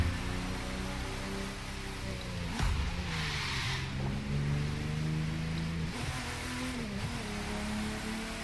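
Porsche car in a driving game cruising through Los Angeles, a steady engine drone rising and falling with gear changes, plus brief whooshes and tire noise, fairly close and continuous.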